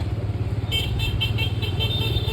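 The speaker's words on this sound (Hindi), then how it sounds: "और पीछे लोग हॉर्न बजा रहे हैं।" Several short horn toots repeat over a steady rumble of engines in traffic, fairly close.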